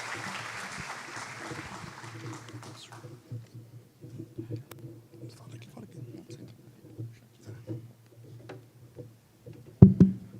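Audience applause following a talk by Nairam F. Barros at an agronomy seminar, soft scattered clapping in a large room that tapers off over several seconds, with murmured speech and a loud thump near the end.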